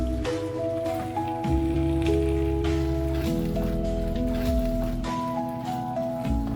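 Half a cup of water is poured into a pan of chicken macaroni sauce with tomatoes, giving a continuous close splashing, sizzling pour under steady background music.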